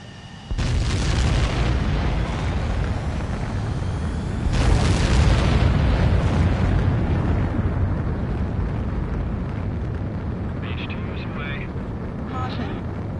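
Jet aircraft takeoff in the video game Ace Combat 7, a sudden loud roaring blast of engine thrust that swells and holds steady, with a brief beeping cockpit tone near the end and no talking.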